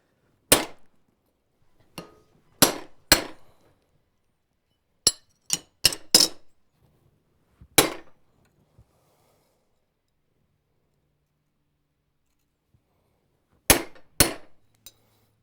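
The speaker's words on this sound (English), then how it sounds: "So to punch these slots that I need to punch, I'm going to use the vise as my bolster" A hammer strikes a punch to cut slots in metal held over a vise used as a bolster: sharp, ringing metallic blows in small clusters of one to three, separated by silent pauses, close and crisp.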